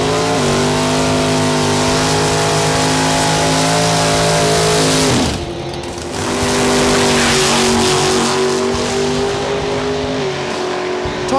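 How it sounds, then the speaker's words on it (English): A 1967 Ford Mustang drag car with a 514 crate engine races past, its engine roaring loudly and steadily, then dropping briefly before revving back up to a sustained high drone. "His employer lets him race the 67 Mustang with a 514 crate engine and a host of other drag goodies."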